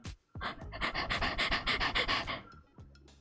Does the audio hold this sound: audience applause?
no